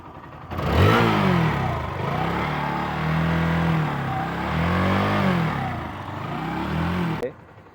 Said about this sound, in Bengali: তো এবার আমি আপনাদের বাইকের এক্সস্টের সাউন্ড শোনাবো